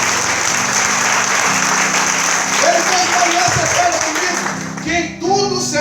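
A church congregation applauds in sustained, dense clapping that fills the room, with voices rising under the applause toward the end.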